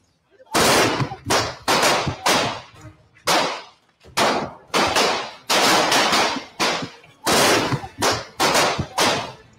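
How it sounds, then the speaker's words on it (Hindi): Loud, sharp gunshots crack in rapid clusters, several volleys of repeated bangs separated by brief pauses, close and harsh. "गोली की आवाज भी आप सुन सकते हैं"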